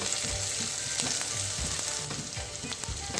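Sliced onion softening in hot oil for a noodles macaroni dish, a continuous close crackling sizzle with soft rhythmic stirring thumps underneath.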